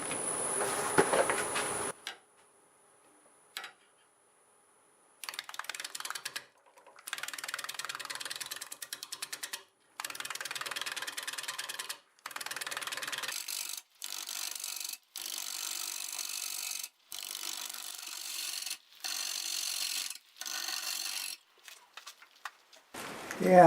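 Bowl gouge cutting into a spinning mesquite blank on a lathe at about 600 RPM, rough bark wood, heard as repeated rasping, chattering bursts separated by short pauses, close and fairly loud.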